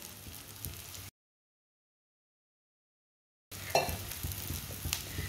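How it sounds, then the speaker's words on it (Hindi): Ground spices (red chilli, turmeric, coriander) frying in a pan over a low flame, a soft steady sizzle with stirring scrapes, broken by a stretch of silence before the sizzle resumes. "मसालों को 1 मिनट के लिए पका लेंगे"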